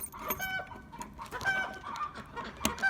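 Brahma and dwarf cochin hens cluck softly in a coop, a few short, scattered calls close by against a quiet background.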